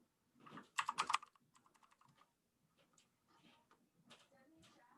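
Typing on a computer keyboard: a quick burst of loud, close key clacks, then scattered lighter taps trailing off, with faint quiet room tone between.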